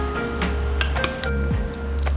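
Spoon mixing coconut or low-fat Greek yogurt in a bowl for a snack, giving soft squishy stirring with light clinks of utensil against the dish, close and steady over a continuous low hum.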